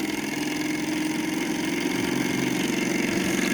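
A small Stirling engine runs outdoors in the wind while its timing is being adjusted, giving a steady, even mechanical chugging that holds at a constant level with no voices.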